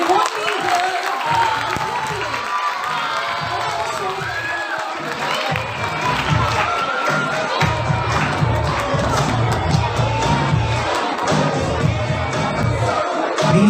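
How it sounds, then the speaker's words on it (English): Schoolchildren at a festival clap and cheer in a loud, sustained crowd roar, with shouts and excited voices rising over continuous clapping throughout. "Keep clapping, boys, keep clapping."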